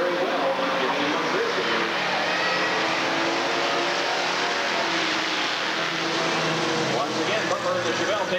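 Street stock race cars roar around an oval track in a 1988 heat race, a Dodge Charger and Chevelle among them, engines loud and continuous as a commentator talks over the racing.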